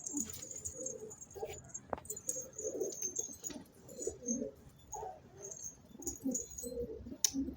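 Pigeons coo repeatedly in low, throaty bursts, close by, with a few faint chirps and light background noise throughout.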